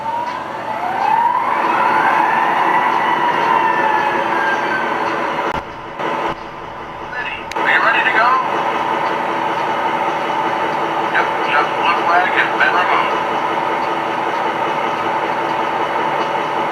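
An MTH Milwaukee Road SD40-2 model locomotive pulling a long, heavy freight train gives a loud, steady motor hum with a rising horn tone and some clicks. A voice speaks briefly partway through.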